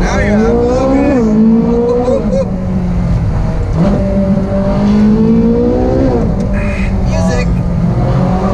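A Ferrari Speciale sports car accelerates hard with a loud, close engine note that climbs through several upshifts, each marked by a brief drop before it rises again. Faint voices come through in places.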